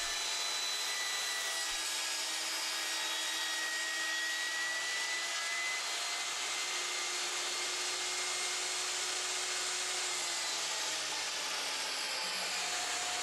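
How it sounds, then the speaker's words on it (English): A table saw rips a reclaimed wood board to width along the fence, a loud sustained high whine and cutting roar that holds steady for the whole pass and eases off near the end, close up, with no talking. "I put the jointed edge against my table saw fence, and I ripped the board to final width"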